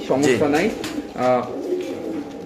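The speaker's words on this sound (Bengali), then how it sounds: "কবুতরের ডাকটা দেখেন" White king pigeons coo at a pigeon sale, giving two rolling, throaty warbling coos close by over faint background murmur.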